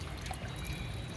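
Water is poured and splashes over freshly harvested organic turmeric being washed in a terrace garden, a short close continuous trickle without any talking.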